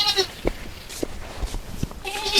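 A goat bleats several short times close by in a rural yard, the calls spaced out between quiet gaps with faint background chatter.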